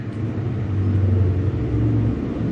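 A tricycle passes close by, its loud, steady low engine rumble droning for the whole stretch with slight swells in volume.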